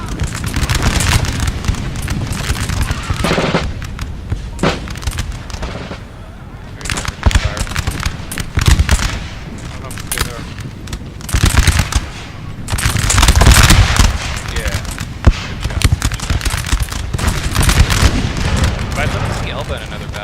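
Musket volleys and cannon fire in a Napoleon Total War 4v4 battle, with loud, dense cracks and booms in uneven bursts and rolling salvos, heard close with a steady battlefield din beneath.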